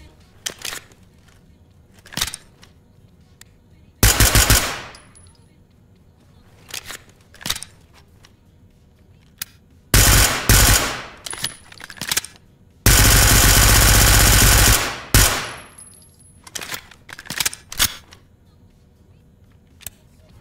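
Unsuppressed MP9 gunfire from the video game Ready Or Not cracks out in sharp single shots and several loud automatic bursts, including one long sustained volley, with quieter clicks and handling noises between them.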